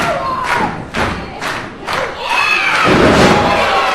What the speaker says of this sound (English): Crowd here trying to get behind the Lion Kid.